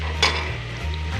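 Chopped onion and garlic sizzle in hot oil for a beef curry, a short steady frying hiss with one quick scrape of stirring near the start.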